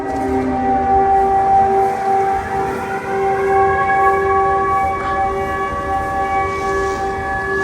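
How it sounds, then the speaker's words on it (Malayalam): A loud, sustained air raid siren wails continuously in Odesa, Ukraine, its steady droning tones holding throughout with no voices. "രാവിലെ തന്നെ സൈറനാണ് കേട്ടോ എന്തോ അറ്റാക്കിന്റെ എന്തോ സൈറൻ മുഴങ്ങുക"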